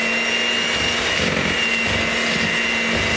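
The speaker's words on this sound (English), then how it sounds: "I'm going to blend it with a blender until it's all put together." An electric blender mixing cake batter whirs continuously at close range, its motor droning with a slightly uneven churning texture and no one speaking.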